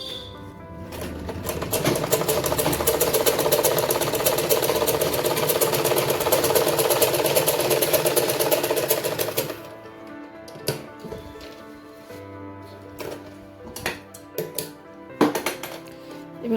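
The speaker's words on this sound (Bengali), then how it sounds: "এটা আমি ডবল সেলাই দিয়ে দেবো এবার" Sewing machine double-stitching a salwar, running in a steady, fast continuous whir for several seconds, then stopping, followed by scattered clicks and handling knocks.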